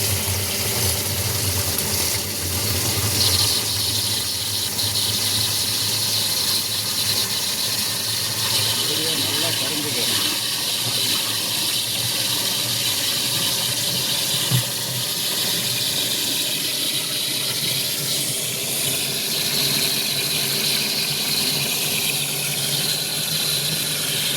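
Water gushing steadily from an open tap into a drum to dissolve urea for drip irrigation in a sugarcane field, a loud continuous rush with a machine hum underneath.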